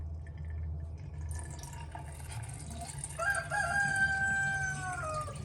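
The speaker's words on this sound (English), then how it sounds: "Not for the rooster crowing" A rooster crows once at a moderate distance over a low steady pump hum and trickling liquid during home beer brewing, with no one talking.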